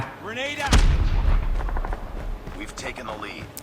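Explosions and gunfire in Call of Duty Mobile, with a loud boom near the start followed by sustained crackling blasts, under excited talking from players.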